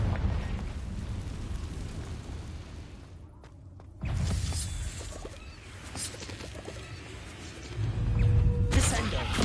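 The Confringo spell in Hogwarts Legacy bursts in fiery explosions, with a sharp blast near the middle and another louder boom at the end over game ambience and scattered crackling.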